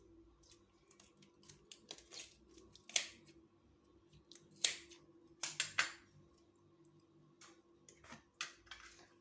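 Grey sea bream having its belly cut open and cleaned, a series of sharp close snipping and clicking cuts in irregular bursts against near silence.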